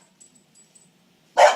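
A dog named Chewie gives a single sharp, loud bark at the very end, after a near-silent stretch with only faint background noise.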